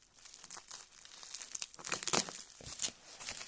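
Packing tape is peeled and pulled off bubble wrap packaging, making loud irregular crinkling, crackling and tearing bursts that build toward the middle, with no voices.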